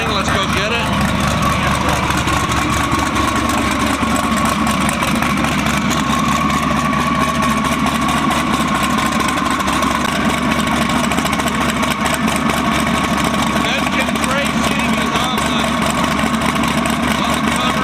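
A race car engine idles steadily in the pits at a Tx2K drag racing event, a constant loud rumble with voices talking over it.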